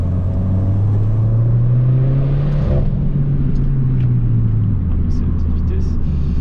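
A Peugeot 208 GTI with 200 hp and an aftermarket Akrapovic exhaust drones loudly, its engine note climbing and then falling back in a long rev, heard close with a person talking over it.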